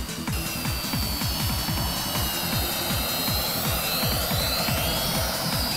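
A Potensic camera drone descends to land, its small propellers giving a steady, loud, high whine with fast rotor buzz that holds unbroken throughout, with no talking.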